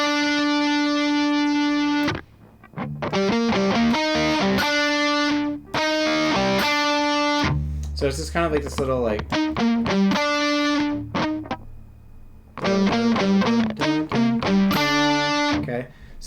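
Guitar playing the opening phrase of a lick, a run of picked notes with sustained tones and a few brief gaps, close and clear, with someone talking briefly over part of it.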